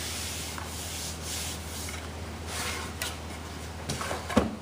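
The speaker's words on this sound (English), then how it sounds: "There, that side's ready to stroke sand." Hand sanding strokes on a wooden table, a soft, steady rubbing texture running continuously at low level, with a few faint knocks near the end and no talking.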